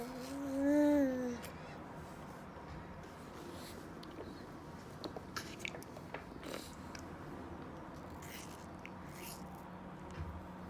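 A baby bites into an apple and chews, giving a series of small, soft crunches and mouth sounds close by after a brief high vocal whine at the start.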